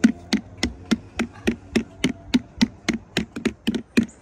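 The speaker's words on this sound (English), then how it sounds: "I'm using a hammer." Hammer tapping while carving a pumpkin, about fifteen sharp, evenly paced knocks close by, each a crisp hollow tap, with no talking.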